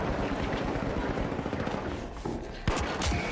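Rapid gunfire in the online shooter The Finals, near and loud, with dense bursts of automatic shots over a noisy battle backdrop and a sharp impact near the end.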